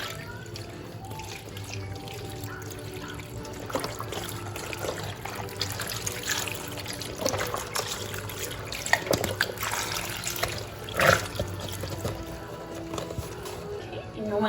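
Beef stock poured into a pot for beef stew, a continuous splashing liquid pour running for several seconds under a quiet voice.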